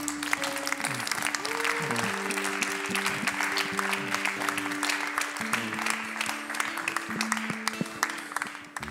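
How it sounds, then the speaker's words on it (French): A church congregation applauding during a French-language service, dense steady clapping over sustained organ or keyboard tones, fairly quiet and continuous throughout. "Est-ce qu'on peut applaudir Jésus ce matin?"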